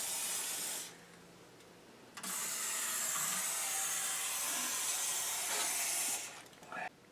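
Spray lubricant hisses onto a car's power window mechanism in a close, steady spray, a short burst followed by a long continuous hiss of about four seconds and a brief final puff.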